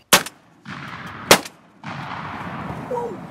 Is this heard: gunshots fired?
yes